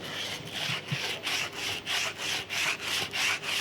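A tyre sidewall is scuffed by hand to strip off dirt down to bare rubber, producing a steady series of about nine rhythmic abrasive back-and-forth rasping strokes, close and moderately loud, with no talk.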